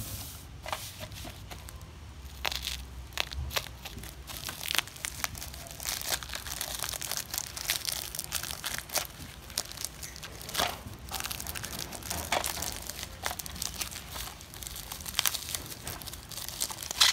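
Plastic shrink wrap being peeled and torn off a brand new sealed cassette album, a close, busy run of crinkling, crackling and tearing bursts that continues throughout, with no talking.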